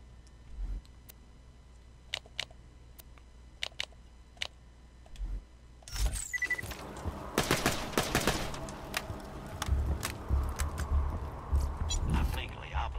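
Gunfire from weapons in the video game Borderlands 2: a few scattered sharp clicks and shots at first, then dense, rapid bursts of automatic fire that continue loudly to the end.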